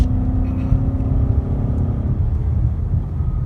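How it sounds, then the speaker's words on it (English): A 2015 Mustang GT's engine runs at a steady drone, then its note drops and settles into a lower rumble as the clutch is pushed in for a downshift, heard up close from inside the car. "We'll downshift again so you can watch what I'm doing."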